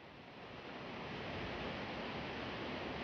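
Cliff Falls in Maple Ridge, Canada, cascading over solid rock, gives a steady, dense roar of rushing water that swells slightly and holds unbroken and close throughout, with no voices.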